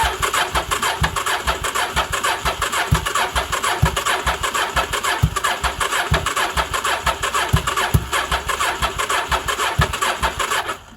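A 1983 Honda Shadow motorcycle engine, with its fuel line disconnected, fires up and runs at a steady, lumpy mid-pitched idle with a rhythmic ticking pulse, loud and close, for the whole stretch before cutting off.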